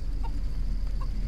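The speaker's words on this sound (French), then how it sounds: "j'ai carrément le contrôle de la poule" Chicken clucking in the ninja video game Mini Ninjas: two short, soft clucks about three-quarters of a second apart, faint over a low, steady rumbling game background.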